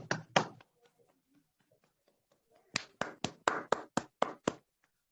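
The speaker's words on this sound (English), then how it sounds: "Can we have a round of applause for it?" Sparse clapping from a small meeting audience: two claps at the start, a pause, then about eight sharp, separate claps in a loose, uneven rhythm.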